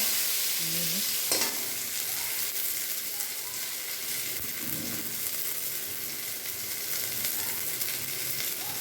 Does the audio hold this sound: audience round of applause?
no